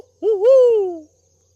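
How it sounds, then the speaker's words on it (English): A single owl hoots at night outdoors, one clear, loud, wavering hoot about a second long, sliding up and then down, with silence around it. "So, 2 owls right now."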